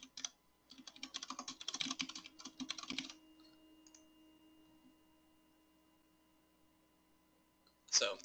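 Bursts of quick computer keyboard typing during a login sit close and fairly quiet, pausing into near silence before a brief final flurry of keystrokes.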